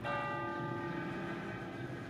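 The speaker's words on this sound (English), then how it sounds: "The bells of Cienfuegos" Church bells ring in Cienfuegos, Cuba, their sustained tones overlapping and resonating steadily, heard at a moderate distance over a soft background wash.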